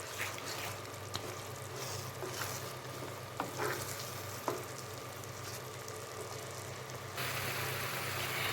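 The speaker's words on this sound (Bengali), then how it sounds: "এখন আমি গুড়ের মধ্যে জলপাইটাকে জাল দিয়ে নেব।" Olives simmer in melted jaggery with vinegar in a pan for pickle, a steady soft sizzle and bubbling with a few faint clicks of stirring.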